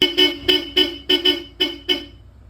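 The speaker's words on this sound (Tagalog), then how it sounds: "Then Bosch Europa horn." A Bosch Europa car horn blasts eight short, loud honks in a quick, slightly uneven rhythm, close and unaccompanied, with a bright, brassy tone.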